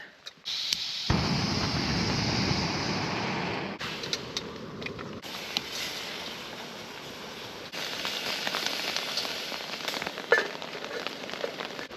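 Rain pattering at a campsite during a storm, a steady dense crackle of drops on a surface, shifting in intensity with occasional gusts and louder taps, no talk.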